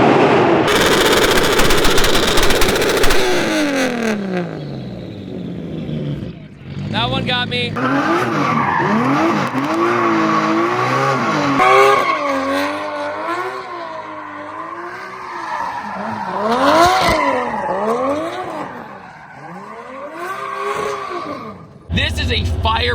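A turbocharged 820 hp Toyota Cressida accelerates hard and loudly up close, its engine pitch sweeping upward repeatedly through gear changes; someone speaks briefly.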